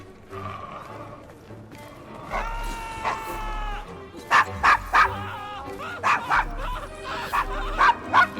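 A dog barks in Assassin's Creed Syndicate, a series of sharp close barks and yips in the second half, after a few seconds of game voices talking over low background ambience.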